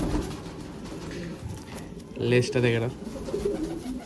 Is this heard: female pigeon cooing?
yes